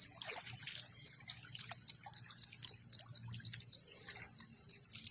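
Water trickles and flows after overnight rain, a low, steady running sound under constant high insect buzzing and occasional bird calls, heard outdoors with no talking.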